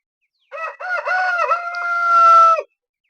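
A Brahma rooster crows once in a farm shed: one loud, close, drawn-out call lasting about two seconds, rising then holding a long final note before cutting off into silence.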